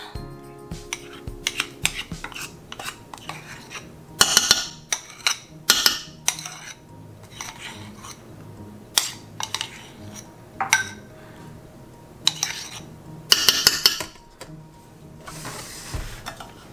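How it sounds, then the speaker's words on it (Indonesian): A metal spoon scrapes and taps against a baking pan, with irregular clinks and scraping strokes as lapis legit layer cake batter is spread, no talking. "Diratakan dengan sendok ya."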